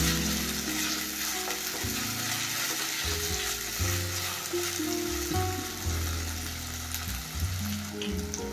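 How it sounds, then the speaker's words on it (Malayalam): Ginger-garlic paste and curry leaves fry in hot oil for a Kerala-style fish curry, a loud continuous sizzle with stirring scrapes and clatter throughout, no voices. "ഇഞ്ചി വെളുത്തുള്ളി പേസ്റ്റ് അത് ചേർത്ത് കൊടുക്കും പിന്നെ കറിവേപ്പില ഇത് ഒരു പച്ചമുണ്ട മാറുന്ന വരേക്കും ഒന്ന് ഇളക്കി കൊടുക്കണം"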